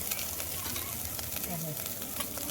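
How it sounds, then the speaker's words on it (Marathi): A masala of chilli powder, salt and turmeric sautéing on a village cooking fire, giving a steady close sizzle and frying hiss throughout with faint stirring. "मसाला आता मस्त परतून घेतो"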